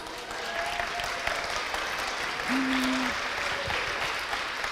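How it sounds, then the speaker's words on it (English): Keynote audience applauding steadily for several seconds, a dense wash of clapping from a crowd filling the room, with a few whoops and no talk over it. "Can we give them a big round of applause?"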